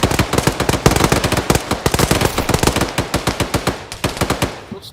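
Rapid automatic gunfire in the military shooter game ArmA, loud and close, a dense stream of sharp repeated shots that continues steadily and slows into spaced bursts near the end, with no talking.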